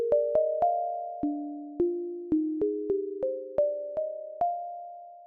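A bright, pure synth lead plays a plinky melody of short plucked notes, each decaying quickly, stepping up and down in pitch.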